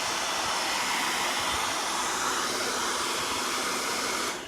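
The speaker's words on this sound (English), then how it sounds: "I'm not putting the hairdryer right down on top of it. And I've got it on medium heat, not high heat." A hair dryer on medium heat blows steadily over a furniture transfer on an unpainted surface, a loud, continuous airy roar that holds even throughout and then cuts off abruptly at the very end.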